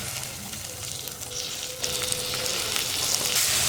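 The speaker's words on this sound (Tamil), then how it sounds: "இப்போது ஊற வச்சு எடுத்து வச்சுருக்கிற அரிசியை இதில் போட்டுக்கலாம்." Soaked rice sautés in ghee with cumin and green chilli, a continuous close sizzle that grows slightly louder partway through.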